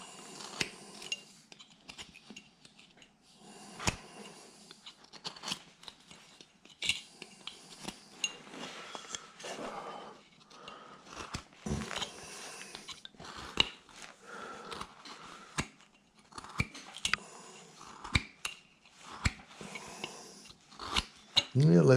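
A blade cuts a small notch, a sequence of faint close scraping clicks and snips in irregular bursts against a quiet background, growing slightly louder toward the end.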